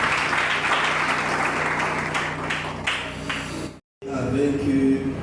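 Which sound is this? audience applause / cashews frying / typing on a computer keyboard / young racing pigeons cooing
audience applause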